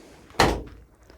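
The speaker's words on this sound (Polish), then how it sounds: "Ładownia, oczywiście mamy system, możemy otworzyć drzwi." Cargo door of a 2021 Peugeot e-Partner Long electric van opening: one loud, close mechanical thunk that rings out briefly and fades, with quiet before and after.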